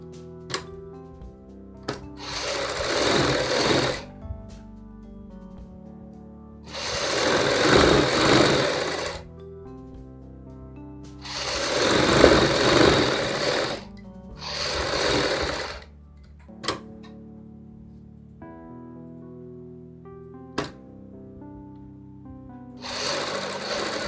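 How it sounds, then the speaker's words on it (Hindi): A loud sewing machine stitches a ladies' coat collar for a kurti or suit in five whirring runs of two to three seconds each. Sharp single clicks and quiet pauses fall between the runs, and no one speaks. "हमने यहाँ से दोस्तों सिलाई लगानी शुरू करनी है हल्का सा हल्का सा"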